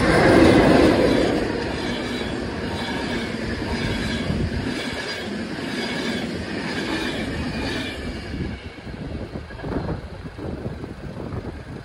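A train runs past close by near the railway line, a loud sustained rumble of wheels and carriages with rhythmic rail clatter and faint squeal, gradually easing off toward the end.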